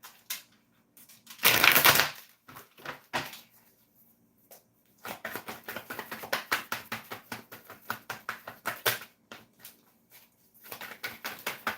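Tarot cards shuffle by hand in rapid riffling bursts, crisp papery flutters repeating in quick clusters with brief pauses between, close and fairly loud.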